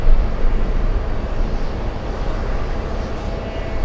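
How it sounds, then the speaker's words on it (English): A Boeing 767 arriving from Dublin at Boston Logan touches down and brakes hard on the runway, giving a steady loud roar of engine and rushing air that holds for several seconds without letting up. "They're hitting the brakes on the 767, hitting the brakes."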